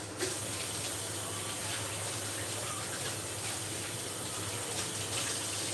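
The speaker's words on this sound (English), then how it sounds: "I'm going to go give these a good rinse" Tap water gushes steadily into a sink as carrots are rinsed, a dense, even splashing hiss that runs close and unbroken from start to finish with no talking.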